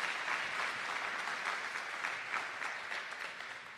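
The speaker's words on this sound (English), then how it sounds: "Let's give Kim a nice round of applause" An audience at a fall sports parent meeting gives warm applause to the school's athletic coordinator, fairly quiet, even clapping with a few distinct claps, slowly fading over about four seconds.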